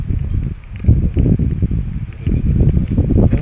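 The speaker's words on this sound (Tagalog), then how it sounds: "Mahangin kasi dito eh." Gusty wind at Morong Beach in Bataan buffets the microphone in low, rumbling bursts that swell and fade, loud and close, with faint rustling underneath.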